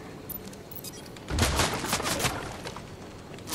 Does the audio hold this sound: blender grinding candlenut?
no